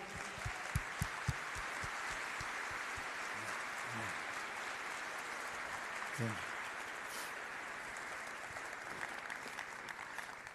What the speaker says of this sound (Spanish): acompáñenme a darle un gran aplauso de felicitación